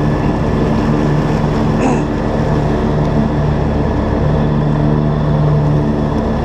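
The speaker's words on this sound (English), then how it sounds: "John Deere doesn't have a problem cutting grass like this." A John Deere ride-on mower cuts thick grass under load, its engine giving a loud, steady drone with a constant hum and no pauses.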